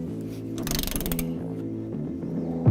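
Ratchet and torque wrench tightening core support body mount bolts on a 2003-2007 Ford F-250 crew cab truck, giving a close series of rapid mechanical clicks in short bursts with brief pauses between.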